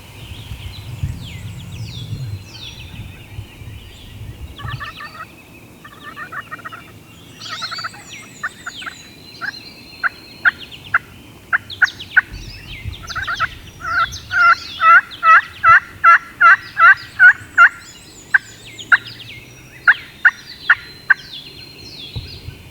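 A wild turkey gobbler gobbles repeatedly in a springtime hunting setting near decoys, loud rapid gobbling bursts building in the second half, with softer bird calls and hen-like yelps earlier.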